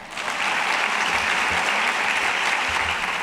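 An audience at a school scholars awards ceremony applauds, a dense, steady wash of many hands clapping that fills the room evenly from start to end, with no break.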